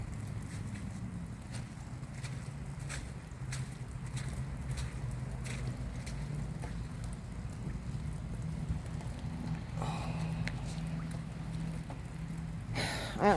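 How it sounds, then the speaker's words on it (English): Steady rain falls at a pond during a wet outing to feed water birds, a continuous soft hiss with a low rumbling undertone throughout and a brief louder rustle at the very end. "the rain doesn't bother me"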